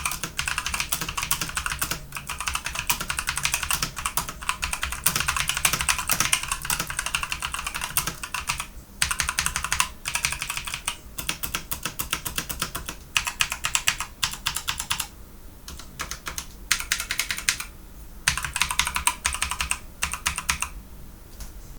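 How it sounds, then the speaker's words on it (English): Fast, steady typing on a full-size Redragon mechanical keyboard with optical brown switches, a close, continuous clatter of keystrokes with a few brief pauses and no talking. "there's the blue switch, not optical, and then there's the optical brown switch, which is like the Pro."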